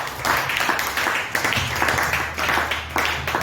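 A church congregation applauding, dense rhythmic clapping that carries on steadily, with voices and cheers blended into it.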